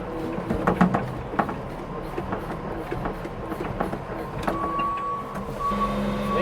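Tractor loader working on a 360-cow dairy farm, its engine drone steady and moderately close, with clanks, creaks and a rising whine toward the end.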